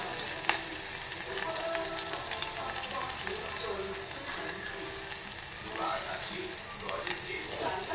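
Onion frying in hot oil with asafoetida, a soft, continuous sizzle with faint stirring scrapes and clicks, heard close but quietly.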